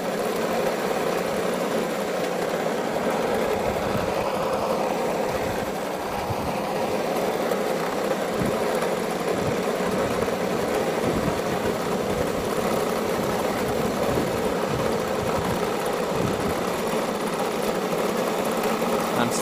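Lawn mower running continuously while cutting a lawn, a steady, fairly close engine drone with a slight dip partway through and no talking.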